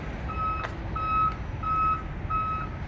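A truck's backup alarm beeps four times in a steady rhythm, loud and close over a low idling rumble.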